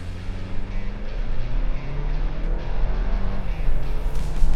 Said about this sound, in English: I'm just hitting the throttle.